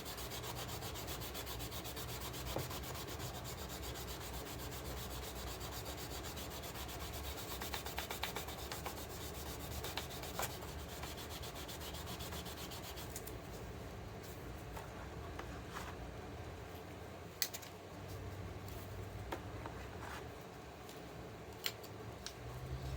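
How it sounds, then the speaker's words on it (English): A fresh Scotch-Brite pad scrubbing a metal surface clean, a steady close rasping rub that continues throughout at low level, with occasional small clicks. "I get nice new Scotch-Brite material to clean the surface"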